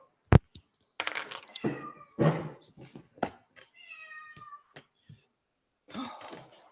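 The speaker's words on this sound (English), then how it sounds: "I'm house sitting, and there's a cat here." A domestic cat in a house gives a drawn-out meow among scattered knocks, a cough and brief bits of a voice, with silence between the sounds.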